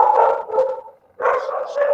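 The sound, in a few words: dogs barking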